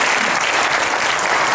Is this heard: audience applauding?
yes